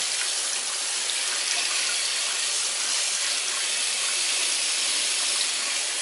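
A tap runs steadily, a constant bright hiss of cold water pouring into a sink, close and uninterrupted.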